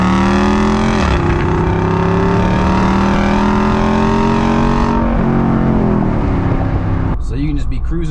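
A V8-powered Jeep Wrangler accelerates hard, its engine note climbing steadily in a loud, continuous roar that drops briefly as it shifts, then rises again before cutting off near the end; a voice speaks over it.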